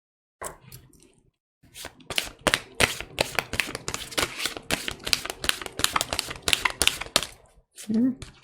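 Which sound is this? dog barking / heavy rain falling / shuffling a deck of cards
shuffling a deck of cards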